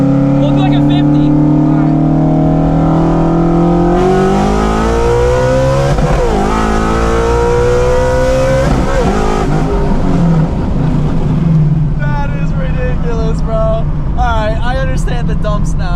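An 800HP boosted Shelby GT350 running E85 accelerates hard, its engine note climbing in rising sweeps and loud throughout, with people talking and exclaiming over the roar.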